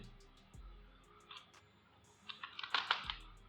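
Typing on a computer keyboard while coding HTML and CSS: a few scattered key clicks, then a quick burst of close, crisp keystrokes near the end over a faint hum.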